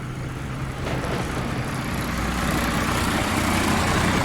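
An old truck engine runs steadily nearby, a low rumbling idle that holds constant and swells slightly louder partway through, with no talking over it.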